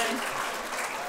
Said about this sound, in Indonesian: Kenapa kok tepuk tangan?